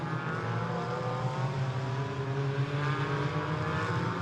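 GT4 race cars howl around the Hockenheim circuit, a steady droning engine note with shifting tones as several cars run together, heard from a distance at moderate volume without interruption.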